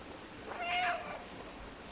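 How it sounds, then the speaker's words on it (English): A cat meows once in the video game Stray, a soft, mid-length call rising over a low murmur of in-game ambience with no talk. "there's another achievement if you say meow 100 times"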